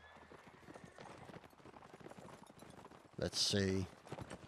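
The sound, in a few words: horse hooves in video game Mount & Blade Warband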